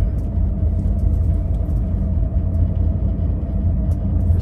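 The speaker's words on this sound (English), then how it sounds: "There's lots of cars here." Car traffic moves through the busy cruise-ship town of Whittier, Alaska, a steady, fairly loud low rumble of engines and tires that runs throughout without pause.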